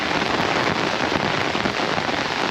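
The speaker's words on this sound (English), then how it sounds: "It started raining a couple minutes after I made that last video." Heavy, steady rain pattering on surfaces, a dense continuous hiss close by with no voices.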